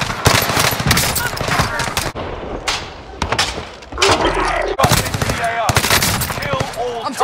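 Rapid automatic gunfire and single shots in a shooter video game, loud bursts repeating through the whole stretch with brief thuds between them and occasional voice in the mix.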